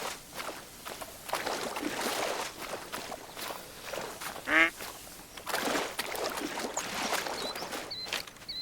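Ducks on a hunt quack in short bursts at mid distance, mixed with footsteps and rustling movement nearby, one louder call standing out midway.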